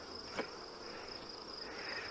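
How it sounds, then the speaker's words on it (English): Bees buzz inside a wooden honey box during a honey pull, a steady, faint high drone with a brief louder bump near the start and no talking. "I can hear the bees in this one"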